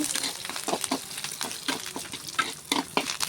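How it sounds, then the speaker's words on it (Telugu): Tempering spices crackling and popping in hot oil, a rapid irregular series of sharp snaps over a continuous sizzle, close by. "కొంచెం చట్పట్టా వేగిందా వేగనివ్వాలి పోపు ఈ విధంగా వేపుకోవాలి"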